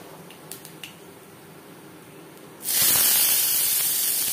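Black cumin seeds dropped into three spoons of hot refined oil for a vegetarian potato chorchori, starting with a few faint clicks before a sudden loud, steady broadband sizzle that holds without pause.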